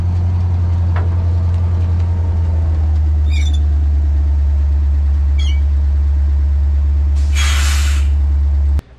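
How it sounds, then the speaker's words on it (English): A dump truck engine idles steadily while air brakes dump with a loud, sharp hiss near the end, after a couple of brief squeaks. "air brakes dumping is probably the coolest sound"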